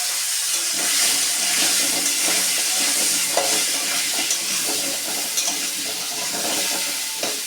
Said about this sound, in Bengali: এর মধ্যে আমি কুমড়োটা দিয়ে দেবো মধ্যে কুমড়োটা দিয়ে আমি ভেজে তুলে নেব